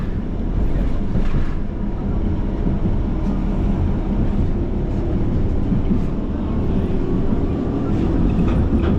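A Pesa Jazz Duo tram, nicknamed Impuls Europejczyk, rolls through Warsaw, heard from on board as a steady low rumble of wheels and motor that stays loud and continuous throughout.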